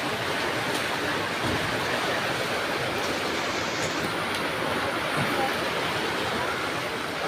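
Typhoon Carina floodwater rushing steadily outside a house, a dense, continuous roar of flowing water with no break or variation in level.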